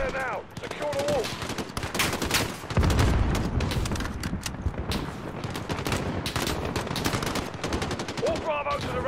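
Dense gunfire from the Embassy mission of the Modern Warfare campaign, rapid machine-gun bursts and single shots overlapping continuously with occasional louder booms, voices shouting briefly at the start and end.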